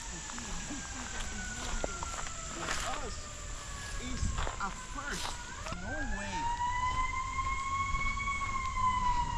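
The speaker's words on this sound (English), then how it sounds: "Ambulance is coming for it." An ambulance siren wails in rising and falling sweeps, growing steadier and closer, while people talk over it.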